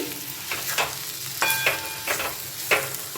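Cauliflower paratha filling with sattu is stir-fried in a pan: a low sizzle broken by repeated scraping strokes of a spatula, roughly one every half second, close and fairly loud.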